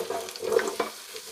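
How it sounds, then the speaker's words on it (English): Onion, peppers and courgette sizzle in the hot tray of a Ninja AF451UK dual zone air fryer, a brief close crackling hiss with a couple of small stirring clicks. "We know it's hot enough because it's sizzling."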